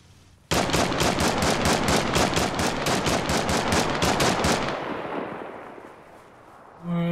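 A long sustained burst of MG3 machine gun fire in the military video game Arma Reforger, loud rapid regular shots for about four seconds fading into a reverberant tail.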